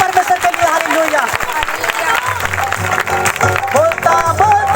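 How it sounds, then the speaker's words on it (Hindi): Church congregation at a live Sunday prayer meeting, clapping loudly under an excited voice and crowd noise, with music playing beneath, steady and dense throughout. "ताली बजाएंगे जोर से परमेश्वर के लिए।"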